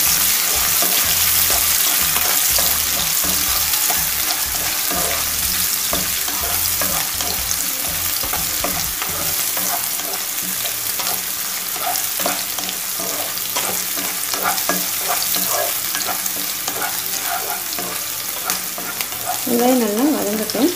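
Onions, curry leaves and green chilies sauté in a pan, a steady loud sizzle with frequent stirring scrapes throughout, heavier clattering early on.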